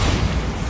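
A Bombarda spell blast in Hogwarts Legacy, a loud, dense low booming burst that fills the whole short moment with no voices over it.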